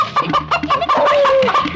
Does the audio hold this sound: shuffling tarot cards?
no